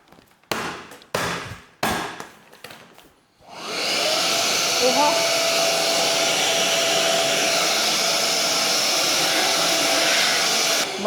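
A home vacuum cleaner that has weak suction and may be missing a part starts up after a few knocks and clatters, then roars steadily and loudly without stopping.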